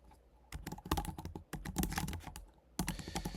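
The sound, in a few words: typing a Korean prompt on a computer keyboard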